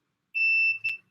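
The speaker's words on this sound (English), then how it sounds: "when I touch the two probes together, it'll beep." Multimeter continuity tester sounds a clean, piercing electronic tone when its two probes touch, one sustained beep followed by a brief second chirp, close and clear in silence.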